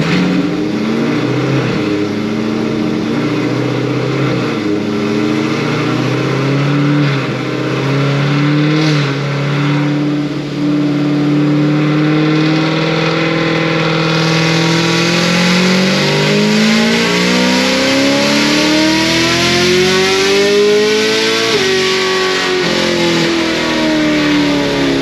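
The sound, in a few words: Stage 5 procharged LT1 Camaro engine revving on full pull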